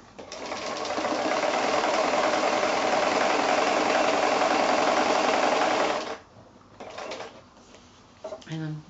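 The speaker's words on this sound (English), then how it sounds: "I'm stitching just by eye about 1/4 of an inch away" Sewing machine running steadily for about six seconds while free-motion quilting stitches are sewn, a dense continuous mechanical whir, then stopping, followed by a few quieter bumps and handling sounds.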